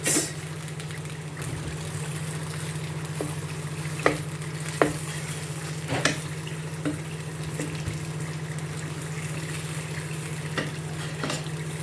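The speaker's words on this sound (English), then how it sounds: "Just to cover and allow to keep frying" Steady frying sizzle of chicken in a covered pot fills the clip, with occasional light clinks and taps of a utensil against the pot.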